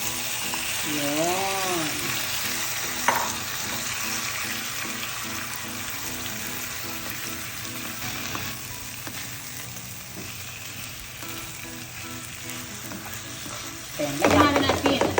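Squid sizzles and fries in a pan of softened tomatoes, a steady close hiss with occasional stirring scrapes and a louder clatter near the end; a voice speaks briefly.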